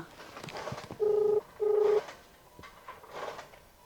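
Two short, even electronic telephone ringing tones in quick succession, mid-pitched and clear, over faint background murmur.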